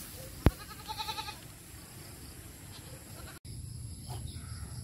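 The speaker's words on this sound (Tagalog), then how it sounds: "Ayan, niwi na rin yung mga kambing." Farm goats bleat in a short burst of quick, wavering calls after a sharp knock, then faint rural ambience follows.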